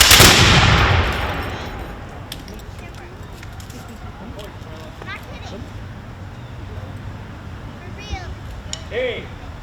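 A ceremonial rifle volley at a Veterans Day ceremony in Hingham opens with one loud, sharp crack of several rifles firing together, which rings out and fades into quiet outdoor ambience with faint scattered sounds.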